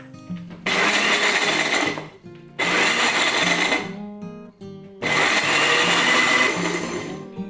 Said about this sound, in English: I process these until I can not see any bigger pieces flying around inside the blender